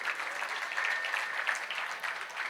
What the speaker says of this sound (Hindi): इनके लिए आप सामूहिक तालियां बजाइएगा दोस्तों।